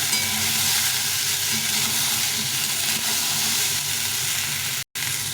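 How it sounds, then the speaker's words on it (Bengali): Cauliflower and four or five potatoes frying together with tomatoes in a pan, a loud, dense, continuous sizzle and hiss that holds steady close by, cutting out for a split second near the end. "আর একটা ফুলকপি আর মোটামুটি চার পাঁচটা আলু নিয়েছি এটাকে ভালো করে সবগুলোর সঙ্গে ভেজে দিতে হবে"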